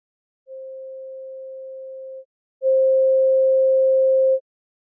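Pure 528 Hz sine tone played twice, a steady electronic hum lasting almost two seconds each time, the second noticeably louder than the first, with silence between and around them.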